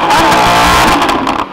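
A Lamborghini engine roars and revs loudly and continuously up close, with a rough, growling tone that eases slightly at the end.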